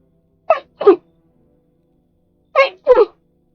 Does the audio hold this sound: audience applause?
no